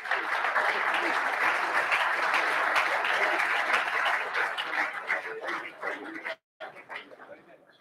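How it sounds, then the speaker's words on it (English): Loud, dense applause fills the hall at a GAA gala banquet as names are read out, holding steady before tapering off, briefly cutting out, then resuming more quietly, with voices mixed in. "And next to receive your applause"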